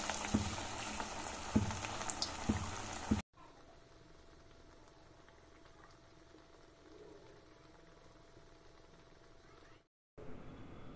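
Chana dal masala vadas (senagapappu masala vada) frying in hot oil, giving a steady close sizzle with bubbling that runs continuously after a louder opening burst of crackle.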